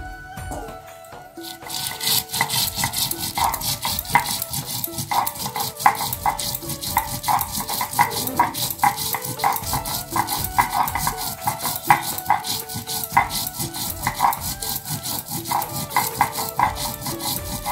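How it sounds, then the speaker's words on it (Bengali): Coriander seeds are ground on a stone slab in a Bengali kitchen, a steady rhythmic scraping and rubbing of stone on stone that carries on close and fairly loud throughout, with no talking. "এখন আমি উঠায় নিব, বেটে নিব ধনিয়া"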